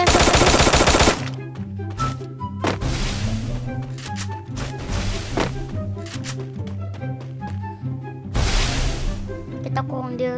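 Gunfire in the Free Fire mobile battle game comes in dense automatic bursts at the start and end, with scattered single shots between, all loud and close, while someone talks excitedly over the action.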